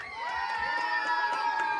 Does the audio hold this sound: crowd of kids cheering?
yes